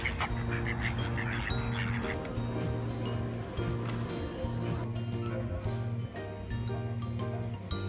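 Ducks gathered near a home by the water give repeated quacks with a few goose-like honks mixed in, continuous and fairly close, with faint background noise and no clear speech.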